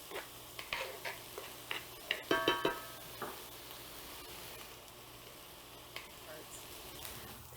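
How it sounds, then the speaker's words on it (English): Onions sauteing in a pan give a soft, steady sizzle, with several sharp utensil ticks and scrapes in a cluster near the start and occasional clicks later, all fairly quiet. "Now you want to saute your onions until they become nice and translucent."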